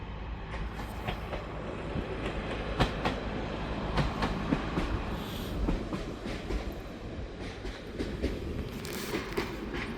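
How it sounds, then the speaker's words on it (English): A diesel train on the Great Central Railway rumbles past close by, with rhythmic clickety-clack of wheels over the rails and steady heavy mechanical roar. "We'll stop here for a bit. There's a train coming."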